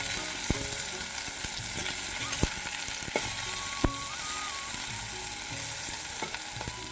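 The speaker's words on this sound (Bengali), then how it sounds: "তো সেই যে উচ্ছেগুলো আমি একটু ভেজে নিচ্ছি আগে" Bitter gourd frying in oil, a constant close, loud sizzle with scattered light taps and clicks of a utensil against the pan.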